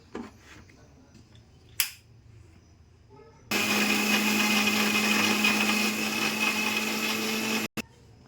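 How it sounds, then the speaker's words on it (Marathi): A mixer grinder blends spinach and coriander with a glass of water for juice, a loud steady whirr that starts abruptly mid-clip, runs for about four seconds, then cuts off, after a quiet lead-in with a couple of clicks. "2 ते 3 मिनटापर्यंत आपण या मिक्सरमध्ये आपली सर्व सामग्री पालक आणि कोथिंबीर हे बारीक करून घेतलेले"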